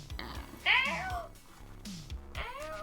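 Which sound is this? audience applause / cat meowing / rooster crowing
cat meowing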